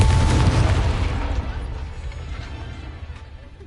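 A Confringo fire blast spell explodes in Hogwarts Legacy, a loud, close boom at the onset that rumbles and slowly decays over a few seconds into a fading low roar.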